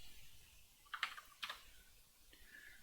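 A few light computer mouse clicks sound close and quiet: two distinct taps in quick succession, then a fainter one after a short pause, with no talking.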